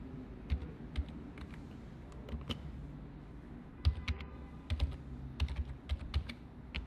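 Quiet clattering of keystrokes on a computer keyboard, irregular bursts of typing with small pauses, close and clear with no talking.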